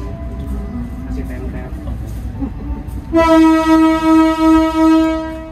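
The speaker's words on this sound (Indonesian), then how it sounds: "sebentar lagi kereta api Airlangga akan diberangkatkan dari stasiun Pasar Senen. Kita dengar klaksonnya." The Airlangga train sounds its horn while departing Pasar Senen station, a loud, sustained horn blast that begins partway through and swells in a few pulses after a stretch of station noise.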